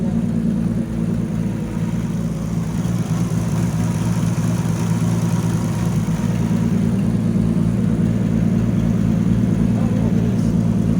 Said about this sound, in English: If you rev it, it almost sounds like an exhaust leak